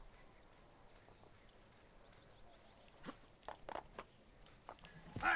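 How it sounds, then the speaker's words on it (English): A horse's hooves in Assassin's Creed clip-clop in a few scattered, moderately close steps over quiet ambient background, growing a little louder toward the end. "Our graceful horse."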